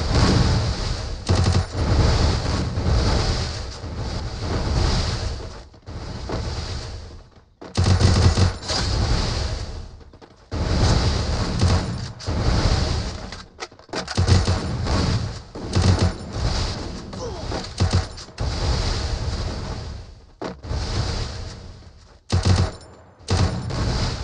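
Gunfire in Garena Free Fire rattles in repeated loud bursts of rapid shots, broken by short pauses across a long firefight.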